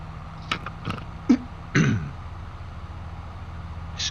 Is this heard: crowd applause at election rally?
no